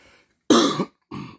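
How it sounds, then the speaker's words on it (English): A dry, harsh cough from a man recovering from allergies: two short bursts, the first louder and longer, the second briefer, close to the mic with silence between. "all I got left is that dry ass annoying cough"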